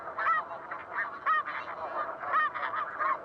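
Recorded snow goose calls: geese honk repeatedly in overlapping nasal calls, a small flock heard fairly clearly with no voices.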